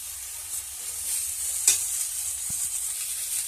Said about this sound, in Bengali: এবার লাউটাগুলোকে সব দিয়ে দিচ্ছি এর মধ্যে তুলে কোনার মধ্যে দিয়ে অল্প নেড়ে জল ঢেলে দেবো